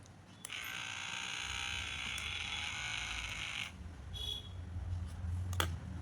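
A small electric nail trimmer motor whirs with a steady high buzz for a few seconds, then stops, leaving faint clicks and background hum.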